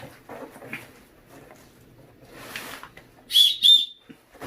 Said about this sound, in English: has a whistle.